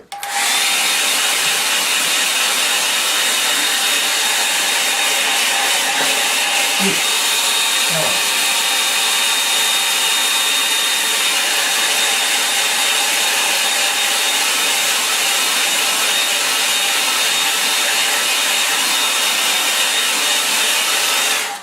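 A hair dryer blows steadily and loudly over a drying painting, a continuous breathy roar running unbroken with no talk over it.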